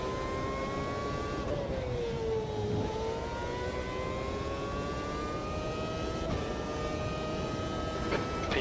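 A Renault Formula One car engine screams at very high revs, close and loud, its pitch climbing and dipping through gear changes and sustained without pause.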